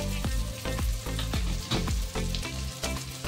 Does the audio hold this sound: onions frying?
yes